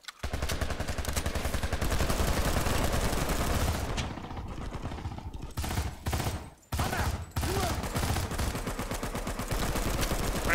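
Rapid bursts of automatic gunfire in the online shooter Planetside 2, rattling continuously and loud with brief pauses near the middle, a voice faintly under the shooting.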